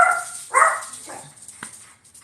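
A dog barks nearby, a couple of sharp, loud yaps followed by softer whimpering sounds, heard clearly with little else around.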